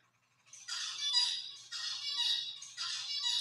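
A male songbird's courtship song plays from a recording as three squeaky, chattering bursts of high twittering notes separated by brief gaps, clear and fairly loud against a quiet background.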